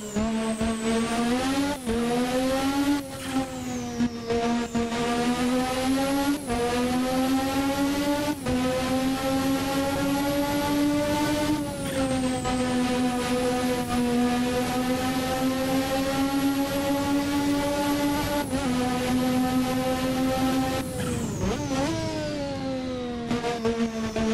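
A race car engine in a racing video game, driven at night, holds a loud, sustained high drone from start to finish, rising and dropping in pitch through repeated gear shifts and throttle lifts with no talking.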